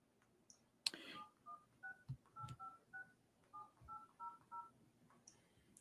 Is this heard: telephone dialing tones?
yes